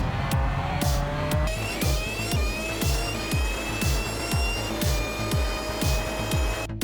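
A BMW McLaren race car at Le Mans in Gran Turismo 7 howls at full throttle, its engine note rising steadily through repeated upshifts in a loud, continuous, close drone.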